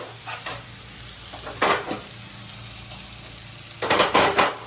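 Tomatoes, onions, green chillies and garlic fry in a pan for okra curry, with a steady low sizzle and two louder bursts of stirring and spatula scrapes against the pan.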